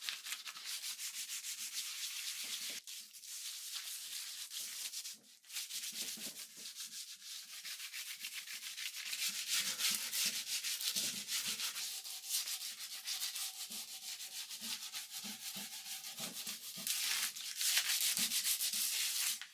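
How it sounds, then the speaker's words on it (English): Hand scuff sanding of an old French Provincial wooden dresser drawer: a continuous close scratchy rubbing in uneven strokes, with brief pauses, no voices. "I'm just giving this a hand scuff sand."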